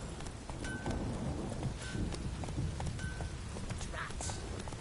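Horse hooves clip-clop at a steady gallop in The Witcher 3, a dense rhythmic thudding under an ambient wash that hints at rain or distant thunder.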